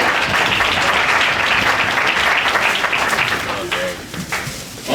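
Audience applause greets a guest introduced on a weekly Wednesday wrap-up show, a dense, steady wash of clapping that thins and fades toward the end, with a brief swell at the close.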